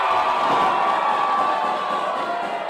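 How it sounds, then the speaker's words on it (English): A wrestling crowd at an amateur fight night roars and cheers in a loud, steady wall of shouting and whoops that holds for the full stretch without a break. "Crowd goes wild!"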